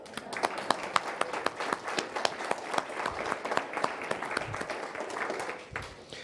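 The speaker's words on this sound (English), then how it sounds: "And I'll applaud him again." Audience applause at a spiritual center service: a room of people clapping, distinct claps clearly audible, steady then tapering near the end.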